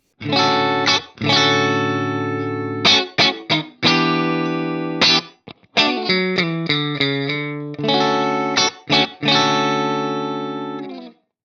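A clean electric guitar, a PRS Custom 24 through a Fractal Audio clean amp model, plays chords and quick picked notes, bright and ringing, with short pauses between phrases and no speech.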